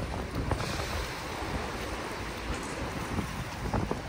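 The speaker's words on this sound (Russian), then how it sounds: "Вот океан куда заходит и сталкивается с речушкой" Ocean surf rolls in where the sea meets a small river on Madeira, a continuous broadband wash of waves with gusty wind buffeting the microphone, no voices.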